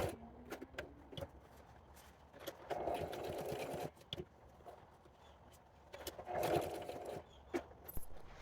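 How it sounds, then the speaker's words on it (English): A sewing machine whirs in short bursts of stitching through the signatures of a handmade denim-covered journal, separated by clicks and pauses, close by and moderately quiet. "I'm going to use my sewing machine and just go with the flow"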